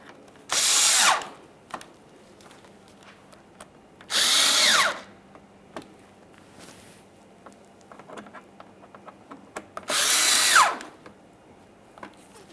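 A power tool drives radiator bolts snug on a 2009-2014 Nissan Maxima 3.5L V6, three loud bursts about a second long each, close up, separated by quiet clinks and handling noises.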